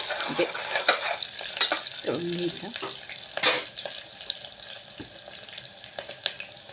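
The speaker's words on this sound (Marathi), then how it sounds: "थोडा कांदा लालसर होईपर्यंत भाजून घ्यायचा, तळून घ्यायचा." Onion sizzles as it fries in a pan for khichdi, a constant crackling hiss with a few scraping stirs and clinks close by.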